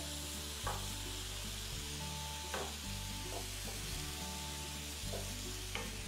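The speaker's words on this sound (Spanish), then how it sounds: "Ponemos el ajo aplastado y ahora sí vamos a empezar a mover" Crushed garlic and chicken sizzle in a single pot while being stirred, a steady frying hiss with periodic scraping strokes of the spoon every second or so, close and alone.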